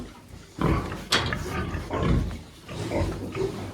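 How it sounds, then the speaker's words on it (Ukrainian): A sow let out for mating on a farm grunts in several loud, close bursts, the snorts spread across a few seconds with rustling farmyard noise between them. "Так, випустили свинку на злучку."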